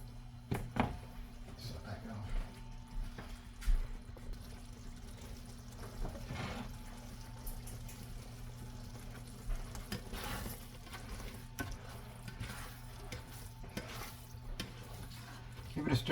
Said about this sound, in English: As you can see, it's starting to bubble nicely.